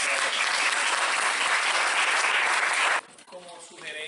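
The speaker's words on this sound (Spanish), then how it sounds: "recibamos con un fuerte aplauso a Gracie," Audience applause for a student guitarist at a December guitar recital: steady, dense clapping that fills the room for about three seconds, then breaks off abruptly into quieter room noise and faint voices.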